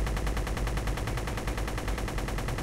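Ship weapons in a space flight game fire as a rapid, continuous stream of shots, loud and close, with an even machine-gun rhythm and no talking.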